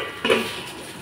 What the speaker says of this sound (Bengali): ঢাকনা খুলে দিলাম 5 মিনিট পর।